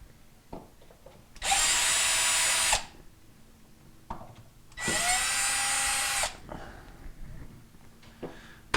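A power drill whirs in two bursts of about a second and a half each while backing out the top mounting screws of a KitchenAid dishwasher, with light clicks and handling noises between bursts.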